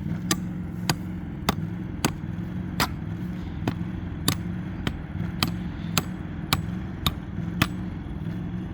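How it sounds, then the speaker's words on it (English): Sharp, evenly spaced hammer strikes, about fifteen in a steady rhythm, drive anchor stakes into the ground while setting up an inflatable outdoor movie screen, over a low background hum. "And I can hammer these in."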